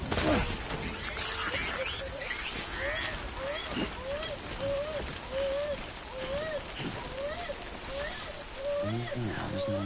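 Heavy rain pours steadily in the video game Death Stranding, a dense continuous wash under a rising, repeating tonal sound, with a voice speaking at moments.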